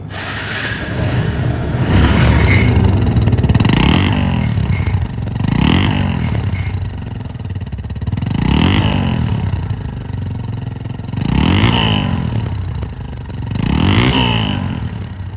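A Bajaj Discover 135cc motorcycle engine revs repeatedly, rising and falling in about six loud throttle bursts over a steady idle, close at hand.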